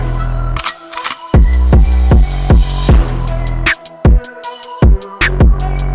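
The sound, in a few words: hip-hop outro beat played back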